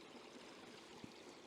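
Meltwater from an upland bog running through a hollow among ice formations, a soft continuous rushing murmur heard faintly at a distance, without voices.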